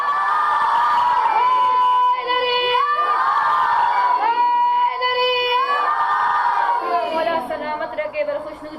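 A large religious gathering at an Arbaeen majlis shouts slogans back in unison, several loud sustained chant phrases rising and falling one after another, with whoops and cheering between them and a slight fade toward the end.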